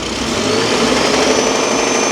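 A seizing B58 car engine revs close by with a steady, high-pitched mechanical whine that rises slightly, no voices over it.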